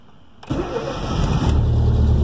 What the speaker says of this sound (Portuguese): Vou fazer o processo normal, vou ligar ele, certo?